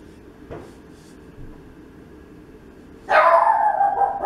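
A dog barks in a sudden loud burst near the end, after a quiet stretch with a few faint knocks, in a room where someone is painting a watercolor.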